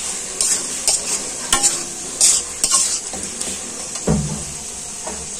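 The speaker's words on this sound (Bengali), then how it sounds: "এবার ভালো করে মশলাটা ভালো করে কষাবো" Masala paste cooking down in oil in a pan for a prawn curry, a bright steady sizzle under rhythmic scraping and knocking of a spatula against the metal, close and fairly loud, no voices.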